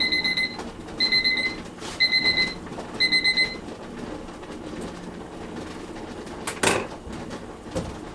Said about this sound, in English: My timer is going off, so the first batch is done.